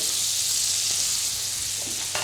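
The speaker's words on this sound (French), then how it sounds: "Ajoutez la noisette de beurre, le déglacer délicatement, puis déposez face plate l'ensemble des endives et des oignons nouveaux à l'intérieur." Endives and spring onions are laid flat into a butter caramel in a pan and sizzle in a steady, bright hiss that fills the short stretch, with a few faint clinks, close and without talk.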